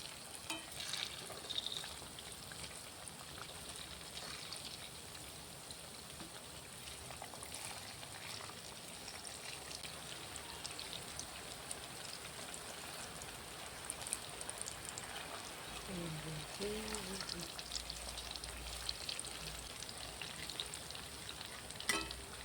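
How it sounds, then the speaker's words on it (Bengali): Sweet palm fruit fritters (taler bora) frying in oil on a gas stove, a continuous even sizzle and fine bubbling at close range with a few soft clinks, no one speaking. "আমি এগুলোকে সব উল্টে নিলাম। একটু লাল পাড়া করে ভেজে নেবেন"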